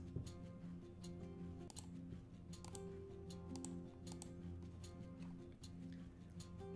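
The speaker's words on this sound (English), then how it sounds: "This will be a lot of typing." Typing on a computer keyboard during a live online trivia night, a steady run of light clicks and taps that goes on throughout, over a low constant hum with no talking.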